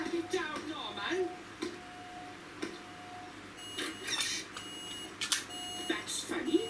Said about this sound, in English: It's your smoke alarm, Dillis.